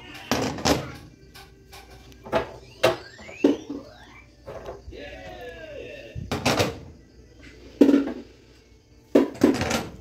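Metal stove grates clank and clatter as they are picked up and set down, sharp clinks in uneven bursts with scraping between them, and someone speaks at times.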